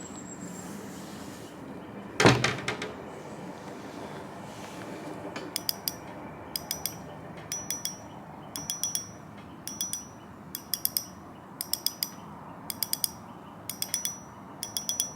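Shimano Twin Power spinning reel drag ticking through repeated short ratcheting bursts at a steady pace, close-up, with a sharp knock near the start and the clicks shifting tone partway through each spool turn.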